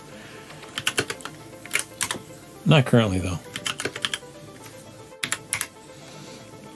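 Quick bursts of computer keyboard typing in irregular clusters, close and fairly crisp, with someone talking intermittently between and over the keystrokes.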